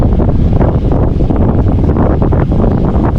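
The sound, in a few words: headwind blowing on a bikepacking ride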